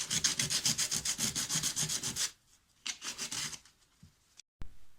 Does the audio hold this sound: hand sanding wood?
yes